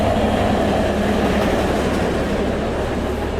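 A train rolls past in American Truck Simulator, a steady dense rumble with clattering rail noise that stays loud and close throughout, with no talk over it.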